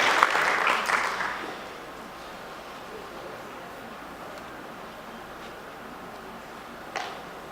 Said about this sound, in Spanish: un gran aplauso para ustedes